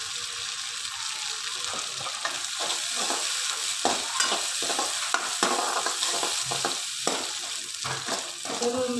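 An onion and spice mixture for pakoda kadhi fries in a pan with a steady sizzle, broken by repeated scraping stirs at a close, even pace.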